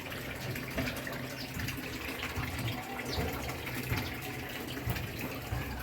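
Water steadily drains out of a concrete pond holding African catfish, a constant broadband rush and gurgle of flowing water close by, with no voices.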